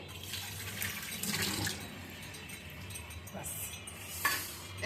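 Meat broth simmering in a pan on the stove with a little water added, a steady bubbling sizzle with faint stirring and clinks, close and moderate in level.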